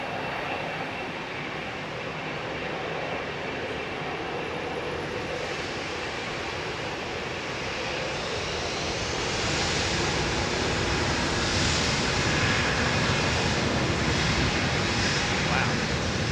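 A jet airliner departs Heathrow on reduced, derated thrust, a broad steady engine roar that swells gradually over the second half and holds loud throughout.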